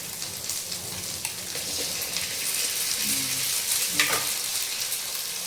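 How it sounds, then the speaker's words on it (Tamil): Eggs fry in a pan for street-style chicken fried rice, giving a steady, close hiss and sizzle with a few stirring scrapes and a brief louder crackle near the end. "2 முட்டையை போட்டுக்கிறோம் நாங்கள்."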